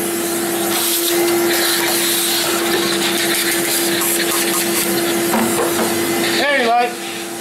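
A handheld vacuum cleaner tidies up sanding dust after a drum sander, giving a steady, close whine that runs the whole time and drops near the end.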